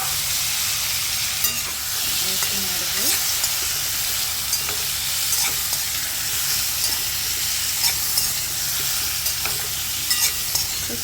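Pumpkin pieces and green chillies fry in oil in a pan with a continuous loud sizzle, broken by occasional stirring scrapes, with no talking.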